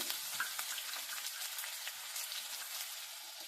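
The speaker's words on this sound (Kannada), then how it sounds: "ಈರುಳ್ಳಿ ಎಣ್ಣೆ ಚೆನ್ನಾಗಿ ಫ್ರೈ ಆಗಬೇಕು." Finely chopped onion fries in hot oil with a steady, dense hiss and crackle that stays even throughout, close and moderately quiet, with no voices.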